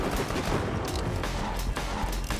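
Rapid, loud gunfire from a cannon in the video game Borderlands 2, a dense burst of overlapping blasts that fills the whole moment with no talking.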